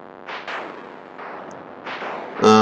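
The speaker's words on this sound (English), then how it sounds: "here's their parody of Missile Command" Missile Command-style parody minigame inside Fallout 4, with a few booming explosive blasts spaced apart, each with a short decay, ending in a brighter electronic tone burst.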